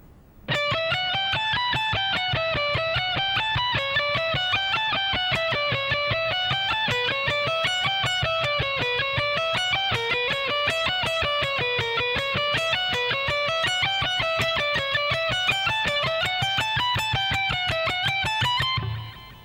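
A long guitar lick played slowly and evenly, distinct notes stepping up and down in a steady repeating pattern with a slightly driven tone.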